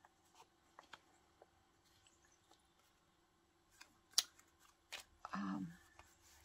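Scissors snip paper for a collage, giving a few quiet, sparse cuts in a hushed room, with a short burst of voice near the end.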